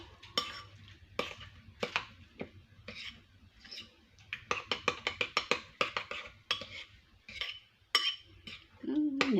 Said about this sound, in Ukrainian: Я це все перемішую.